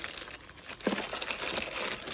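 Crinkly plastic packaging from a Walmart hair clipper set rustles and crackles up close as it is pulled open, a continuous scratchy crumpling sound.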